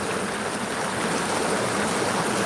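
A flowing creek with trees hanging over it, making a steady, full rush of water that stays close and even throughout with no voices.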